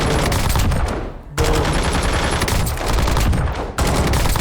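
An AMAX rifle fires on a firing range in the Warzone video game, loud sustained automatic bursts close up, cut by two short pauses between strings of rapid shots.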